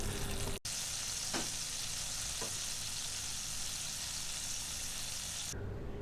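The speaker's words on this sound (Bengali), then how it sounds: "বিফ কিমাকে খুব পাতলা করে শেপ করে বাটারে ভাজবো।" Thin beef burger patties fry in butter in a pan, giving a constant, even sizzle close by that runs unbroken after a brief click near the start.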